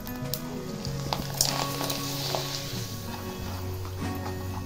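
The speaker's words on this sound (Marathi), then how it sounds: "आता तेल तापलेलं आहे, मी तुम्हाला तळून पण दाखवणार आहे." Small rice flour papads frying in hot oil, a steady broad sizzle with a low background hum running throughout, close and moderately loud.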